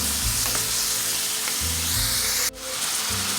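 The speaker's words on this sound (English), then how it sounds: "just go ahead and mix it and let your ground beef cook" Ground beef seasoned with salt sizzles and fries steadily in a pan, with brief stirring scrapes and no talking.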